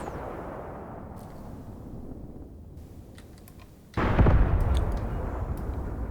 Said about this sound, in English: My anti-tank guns are engaging this BT, but they don't seem to be able to kill it